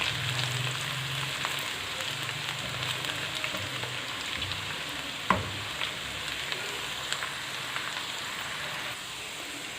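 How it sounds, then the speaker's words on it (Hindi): Onions fry in hot oil in a kadhai, giving a steady, soft sizzle that holds across the whole stretch, with one sharp clink of a utensil partway through and faint stirring scrapes. "अब इसमें मैं डाल रही हूँ प्याज। प्याज को हम ब्राउन कर लेंगे"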